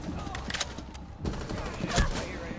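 Video game gunfire, rapid bursts of shots close and loud over a fast firefight, with a voice faintly present in the mix.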